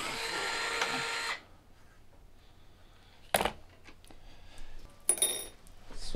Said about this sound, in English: I'm gonna take the four screws out from the fender delete.